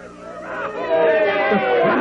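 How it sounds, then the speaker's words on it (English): Cartoon crowd cheering loudly at a pony race, a dense babble of excited voices and shouts swelling steadily and holding at full volume throughout. "crowd cheered"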